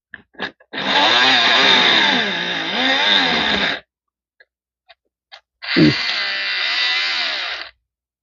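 A faulty hair dryer's small electric motor runs during repair with a steady high-pitched whine that cuts off, then restarts after a brief pause and a few clicks, loud and close.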